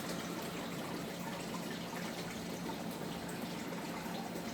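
Purple non-sulfur bacteria solution trickles and flows steadily into creek water, a soft continuous watery wash with no pauses, fairly faint and heard alone.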